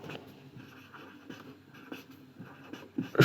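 An equation being handwritten during a matrices lesson, heard as faint, close scratchy strokes and light taps in uneven bursts, with no talk.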